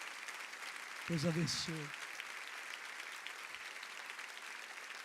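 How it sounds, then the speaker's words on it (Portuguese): A church congregation applauds during a worship service, a soft continuous patter of clapping in the background while someone briefly speaks over it. "Vamos aplaudir essas vidas."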